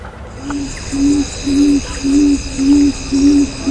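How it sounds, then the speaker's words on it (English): A tawny frogmouth calls with a steady series of six low, soft, evenly spaced oom notes, close and clear against a quiet background with a faint high hiss. "It would be a tawny frogmouth."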